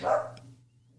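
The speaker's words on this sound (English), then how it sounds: "sorry for Hobby barking" A single sharp dog bark rings out close by indoors, followed by a quiet pause before the start of another bark cuts in at the end.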